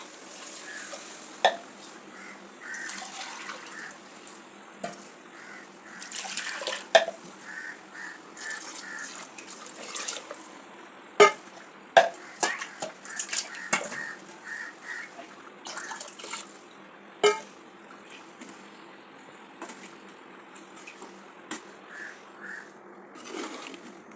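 Water poured from a glass into a pot of broken kurunai rice with salt for ghee rice, two glassfuls, giving close, uneven splashing gushes and clinks with brief loud bursts.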